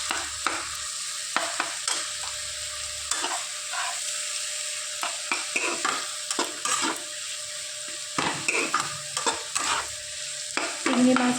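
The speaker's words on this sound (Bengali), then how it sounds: "এবার ভালো করে নেড়ে চেড়ে মিক্স করে নেব।" Fried shrimp is stirred together with boiled ash gourd and grated coconut in a pan, with repeated scraping strokes over a steady low sizzle, close and clear with no voices.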